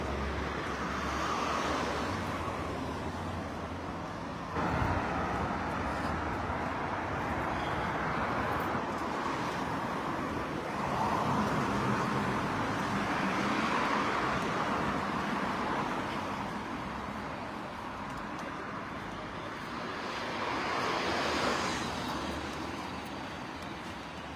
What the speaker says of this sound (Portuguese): Na Avenida Angola os carros circulam normalmente.